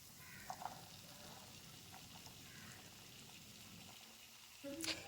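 Shelled green peas and potato pieces fry gently over low heat in a pan, giving a soft, steady sizzle with faint scattered pops and a brief stir or clink near the end.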